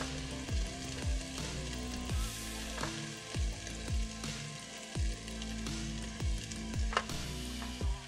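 Vegetables sauté in a pan for homemade spaghetti sauce in a van kitchen: a constant sizzle broken by regular, evenly spaced scrapes of a utensil pushing the food around.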